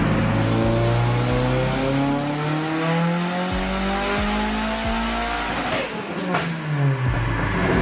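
A Nissan S15 drift car on a dyno, running on pump gas with the boost turned up, revs hard and sustained. The loud engine climbs in pitch through repeated rising sweeps, then drops off briefly before roaring again.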